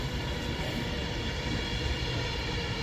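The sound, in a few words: Avanti West Coast Class 805 train passing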